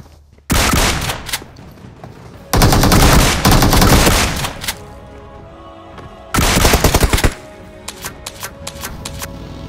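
Gunfire in a battle royale mobile game: loud, close bursts of rapid automatic fire in several long volleys, separated by quieter gaps with a few scattered shots.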